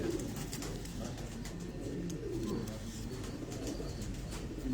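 Pigeons coo softly and repeatedly, their low rolling calls overlapping against a steady background hum, with no talking.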